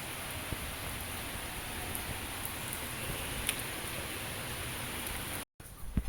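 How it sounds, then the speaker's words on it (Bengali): Heavy rain falls on a house during the monsoon, a broad, constant roaring hiss with a few louder drops, briefly cut to silence just before the end. "এখানে ভালো জোরে বৃষ্টি শুরু হয়ে গিয়েছে।"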